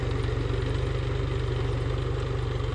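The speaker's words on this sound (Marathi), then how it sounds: "मी तर ट्रॅक्टर लावलाय आमच्या इथं उसात" A tractor engine running in a sugarcane field, a steady close idling throb with an even low pulse and no other sounds.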